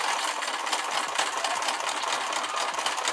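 A sewing machine stitches a patch onto denim shorts with a fast, even mechanical whir and a steady needle rhythm, close and continuous with no voices.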